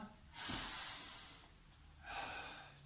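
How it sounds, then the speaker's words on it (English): Deep breathing during a children's home workout: two long, close, airy breaths, the first drawn in and let out slowly, the second starting after a short pause. "let's take our 3 big breaths"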